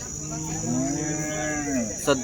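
A single cow gives a long, clear moo close by at a cattle market in Baramati, India, rising and falling over a steady background hum.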